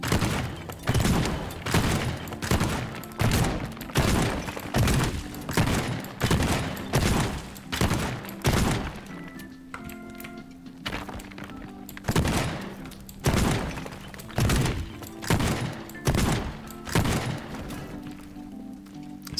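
Gunfire from a shotgun in the video game Teardown comes as a long run of heavy, booming shots fired about twice a second. The shots are close and loud, pause briefly near the middle, then start again at the same steady pace.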